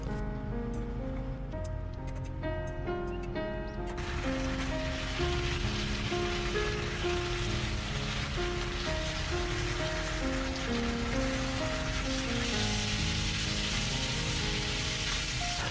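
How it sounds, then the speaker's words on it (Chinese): Steady crackling sizzle of marinated pork belly frying in a hot pan without added oil, continuous and close, with faint background music tones running throughout. "先将腌好的五花肉倒入锅中，开始煎五花肉。"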